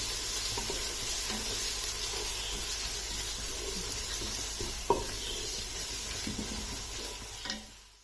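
Garlic and ginger paste cooks in a pan for mutton yakhni soup, giving a steady close sizzle with occasional stirring clinks and scrapes, no voices.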